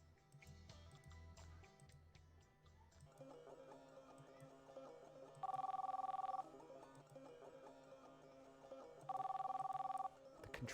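Telephone ringing in a diner in the video game Drowned God, two distinct electronic ring bursts about a second long each, clear and steady over a low hum and faint background sounds.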